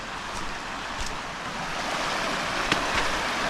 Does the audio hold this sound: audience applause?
no